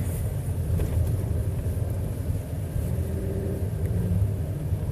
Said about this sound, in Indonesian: gesekan roda dengan jalan konblok ini